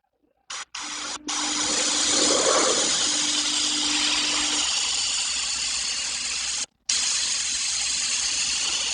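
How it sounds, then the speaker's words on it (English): A steady hiss of airbrush spray runs for several seconds, broken by a couple of brief pauses, close and fairly loud. "And again, I'm going to spray mostly on the paper."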